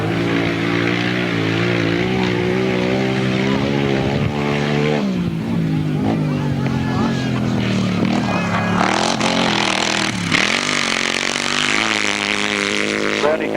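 Grasstrack solo racing motorcycles, 600cc class, roar through the last lap of a runoff, loud and continuous, with engine pitch rising and falling as the bikes pass and change gear.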